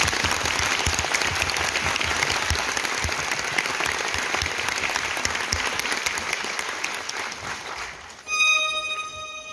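Dense, sustained applause from a concert audience at an encore concert fills the hall near and loud, thinning slightly before music enters at the very end.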